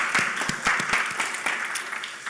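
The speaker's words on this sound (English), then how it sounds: "I'm going to give them a round of applause for putting this on." Audience applause fills a conference hall after a product management talk, with steady, fairly loud clapping and a few sharper individual claps standing out, and no speech over it.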